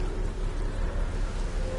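Rain falls during a storm in a steady, moderate wash of patter with a low rumbling undertone, continuous and without voices.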